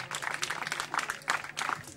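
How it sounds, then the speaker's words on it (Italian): An audience at an outdoor concert applauds the Fagiani family, giving a short, moderately loud burst of scattered clapping with a few voices mixed in. "Un applauso pure per la famiglia Fagiani"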